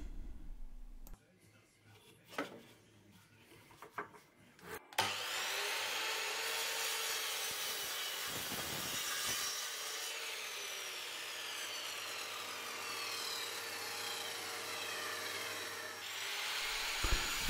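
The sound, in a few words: handsaw sawing wood for a nest box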